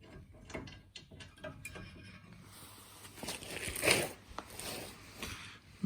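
Two ratchets doubled up loosening a brake caliper bolt on a Ford Fiesta ST180 track car, giving faint intermittent clicking bursts, a few louder clicks near the end.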